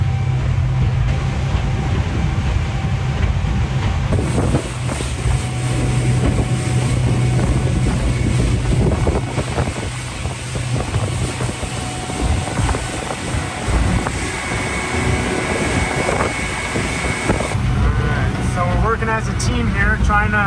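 Motorboat running fast on choppy Puget Sound water during a salmon fishing trip, a loud, continuous engine rumble with wind buffeting and thumps from the hull, while people talk over it.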